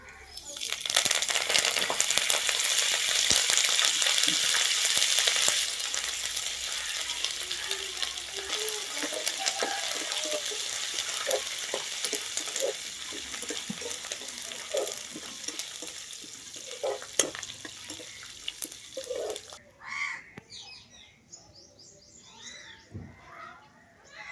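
Curry leaves hit hot tempering oil for a toor dal chutney, bursting into a loud crackling sizzle that gradually settles into softer spitting, then drops to a quiet, intermittent crackle near the end.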